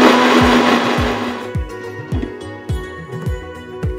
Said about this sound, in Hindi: आता थोडंसं पाणी टाकून आपण हे हिरवं वाटण करून घेऊया.